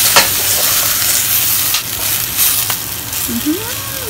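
Garlic, ginger and dried chili stir-fried in a pan with shrimp, giving a steady close sizzle with scraping stirs and a brief squeak near the end, no talking.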